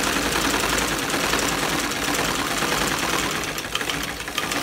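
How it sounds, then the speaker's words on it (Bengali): A sewing machine stitches a seam on a salwar kali panel, running with a continuous close, loud mechanical whir and rapid knocking rhythm that holds steady for the whole stretch, slightly unsteady near the end. "ঘোরানোর পর এখন জাস্ট উপরের যে মাপটা আছে সেই অনুযায়ী সেলাই করব।"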